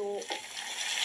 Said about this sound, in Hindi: अब इसमें हम थोड़े से आलू डालेंगे